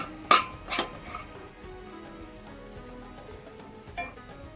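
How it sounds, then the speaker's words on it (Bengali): A steamed crunchy snack mixture is stirred in a pan: two sharp metallic clinks open, followed by quieter scraping and shuffling, with one more clink near the end. "এটাকে আমি স্টিম করেছি এবার একটু নাড়াচাড়া করে নেব"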